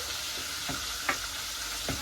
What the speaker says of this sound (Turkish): Diğeri de kızarıyor.